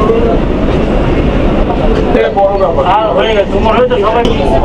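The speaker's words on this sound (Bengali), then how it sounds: "মেট্রো চলে এসেছে" Kolkata Metro train pulling into a station, a steady loud rumble with rising and falling wheel and motor tones, while people talk over it throughout.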